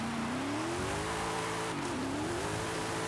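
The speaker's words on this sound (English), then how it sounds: "Set it sideways on the handbrake, all the way to the corner." A police drift car in Forza Horizon 5 slides sideways through a corner on the handbrake, its engine droning steadily with a rising and dipping pitch and faint tire noise, alone and fairly close.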